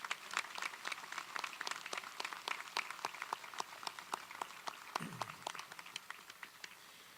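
An audience applauds steadily at a university commencement ceremony, dense clapping filling the space without pause, sustained and fairly loud throughout.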